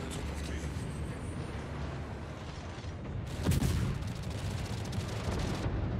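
Naval gunfire from warships in World of Warships rumbles as a steady low roar, with a sharper burst of shots around the middle. A voice talks throughout.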